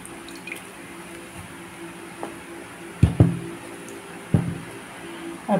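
Boiled food is squeezed by hand to press out excess water, giving a few soft splashes and drips spread across a quiet kitchen background, with two or three sharper wet splats near the end.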